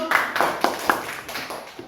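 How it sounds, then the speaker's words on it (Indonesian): A small group of students claps at a classroom activity, a series of roughly evenly spaced, slightly ragged hand claps at moderate loudness, tapering off over about two seconds. "kasih tepuk tangan dulu."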